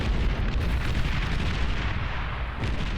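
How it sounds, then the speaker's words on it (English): Gauss cannon fire in the real-time strategy game Beyond All Reason during a 4v4 tournament battle, a dense continuous roar of booming shots and explosions blending into a steady loud barrage with no speech. "Looks like he switched to the Gauss cannon here."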